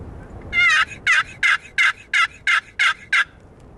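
Wild turkeys gobbling during an opening-day archery hunt, about eight loud, evenly spaced rattling gobbles in a rapid series, heard clearly with no talk.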